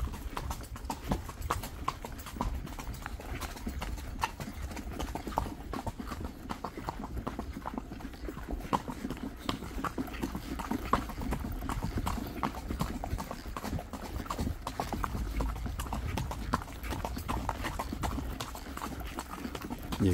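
Horses clip-clop along a ranch trail during a long horseback procession, a dense, continuous patter of overlapping hoofbeats close by with faint background activity.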